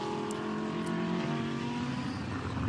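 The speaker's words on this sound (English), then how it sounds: "So cars going onto track" Several GT race car engines drone and rev steadily as cars leave the pits onto the track for qualifying at Brands Hatch, a dense layered motor roar that continues without a break.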